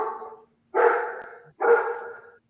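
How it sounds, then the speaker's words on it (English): A female dog barks three times, close and loud, each bark drawn out and harsh with a gap before the next, with no voices over it. "That's my dog's way of saying she doesn't want to hear anything about the special teams."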